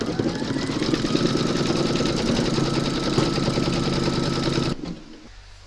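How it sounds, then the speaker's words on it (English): An embroidery machine stitching a round to secure backing fabric in a hoop for reindeer slippers, a loud steady mechanical whirr with rapid needle ticking that stops abruptly near the end. "pop your hoop into your machine and stitch round number 17, and that's going to secure your backing fabric"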